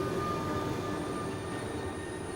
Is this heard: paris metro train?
yes